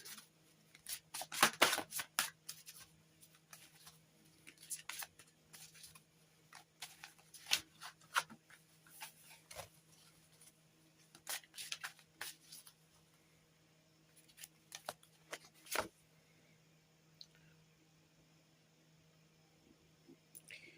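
Oracle cards are shuffled by hand in a quiet room, giving soft irregular bursts of papery riffling and slapping, close but faint, with pauses between flurries over a low steady hum.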